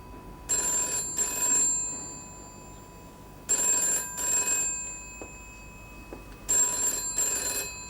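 A telephone bell rings in three evenly spaced bursts, each a double ring with a short pause between, close and clear in a quiet room with no talking.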